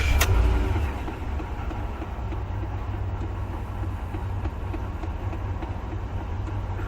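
A 2009 Ford F150 pickup with 174,000 miles starts with a brief loud burst, then settles into a steady, low, rumbling idle that continues evenly to the end.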